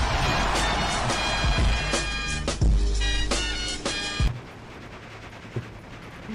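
Heavy gunfire and shelling in a World War II strategy game, with dense loud booms and rapid shots layered over a constant battle roar that drops off abruptly near the end.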